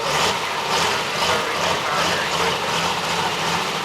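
A turbocharged pulling tractor roars at a crowded night truck and tractor pull at The Buck, a loud, sustained engine drone with a whistling turbo hiss that holds steady and strong throughout.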